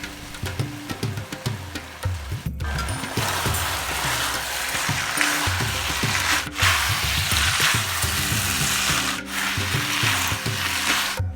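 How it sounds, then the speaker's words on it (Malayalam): Noodles are tossed and stir-fried with sauce in a wok for restaurant-style chicken noodles, with loud rhythmic scraping and rubbing strokes repeating throughout and no voices. "ഇനി നൂഡിൽസ് ഇട്ട് കൊടുക്കാം."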